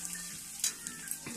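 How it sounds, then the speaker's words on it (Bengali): Vegetable curry sizzling quietly in a pan, a soft steady frying hiss broken by a few faint clinks and stirring scrapes. "তরকারি সেঁকে দিয়েছি"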